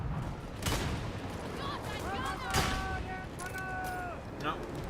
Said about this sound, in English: Immolation grenade.